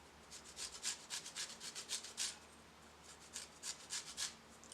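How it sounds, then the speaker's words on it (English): Lime zest is grated for sorrel cake batter, producing quiet, quick rasping strokes in a steady rhythm. The strokes come in two short runs with a brief pause between them. "while those eggs are in, we're gonna grate a piece of lime zest"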